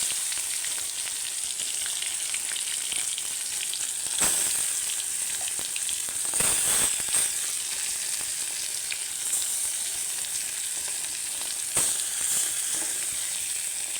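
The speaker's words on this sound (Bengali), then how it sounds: "একদম লাল করে চিংড়ি মাছগুলো ভেজে নেব।" Shrimp frying in a pan until reddened, a steady close sizzle with broad hiss throughout and occasional louder bursts of spattering oil, no voices.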